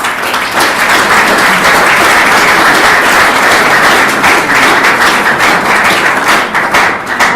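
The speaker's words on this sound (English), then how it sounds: "I think we should just give him a quick round of applause" Audience at a film screening applauding the writer and director, loud, dense and continuous clapping close by that keeps going for the whole stretch, with no talk over it.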